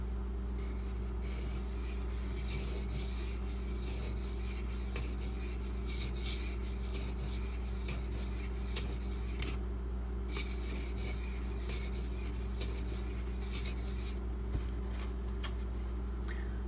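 Knife blade, a Spyderco Native 5 in Maxamet steel, is rubbed back and forth on a 1000 grit silicon carbide whetstone, producing steady close rasping strokes over a constant low hum.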